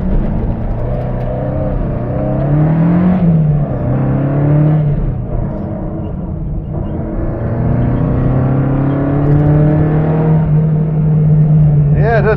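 A 1977 Mitsubishi Lancer 1600 rally car engine heard from inside as it revs and pulls through gears, loud rising and falling pitch sweeps with shifts, close and continuous.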